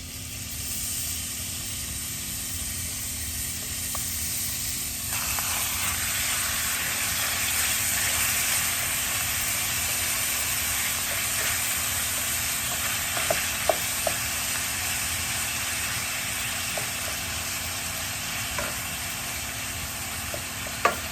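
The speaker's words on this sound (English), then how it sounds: "Now I'm going to go ahead and add in my ground beef." Ground beef sizzles steadily in a pan with a tablespoon of oil, a loud continuous frying hiss that swells as the meat goes in, with occasional faint scrapes and pops, no talking.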